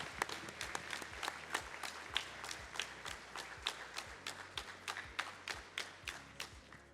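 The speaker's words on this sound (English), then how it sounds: "Let's give them a round of applause" Applause from an audience at a high school decision day ceremony, a steady round of clapping with distinct sharp claps standing out, moderately distant and filling the whole stretch without talk.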